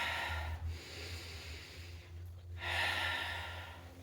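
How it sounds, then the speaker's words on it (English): Deep, audible breaths drawn in and pushed out while holding a Pilates pose with the head dropped between the arms and heels pressed toward the floor, two long airy breaths close up with a soft low hum behind. "Deep breaths."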